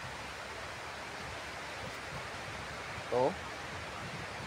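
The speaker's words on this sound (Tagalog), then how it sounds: "kusog na kayo ang tingog sa uwan" Heavy rain pouring down in a steady broadband wash of noise with no breaks, loud and constant, with a single short spoken word partway through.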